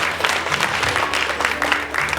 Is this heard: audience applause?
yes